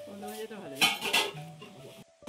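Plates and cutlery clink and clatter as dinner is plated with crispy bitter gourd fry and Nepali potato pickle, a few brief close knocks mixed with a voice talking.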